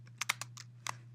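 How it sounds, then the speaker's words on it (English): Quiet typing on a computer keyboard, about seven separate key clicks in an uneven rhythm, with a steady low electrical hum running underneath. "I'm going to do it typing because it's a little bit faster"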